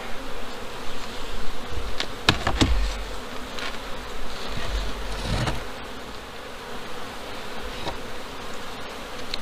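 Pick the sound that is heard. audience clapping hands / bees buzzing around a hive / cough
bees buzzing around a hive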